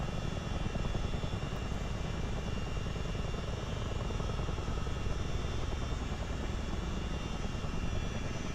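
Steady, dense rotor and engine drone of a CH-47D Chinook twin-rotor helicopter in a multiplayer flight simulator game, loud and continuous throughout with no talking.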